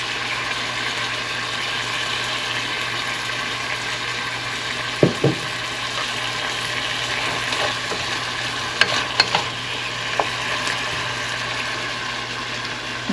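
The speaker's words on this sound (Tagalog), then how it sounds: "I mix the oyster sauce" Adobo sitaw, string beans frying in a pan with oyster sauce, sizzles steadily while a utensil stirs, with a few sharp scraping knocks against the pan partway through. No one speaks.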